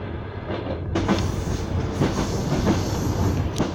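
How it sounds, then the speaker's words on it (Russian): Passenger train wheels clack rhythmically over unwelded rail joints near Mineralnye Vody, heard from inside a carriage by an open window, with repeated beats over a continuous rumble of rolling wagons and no talk. "в минеральных водах еще не успели спаять рельсы, и они поют нам старую песню"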